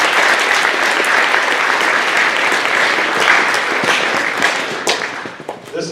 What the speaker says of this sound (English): so a round of applause for her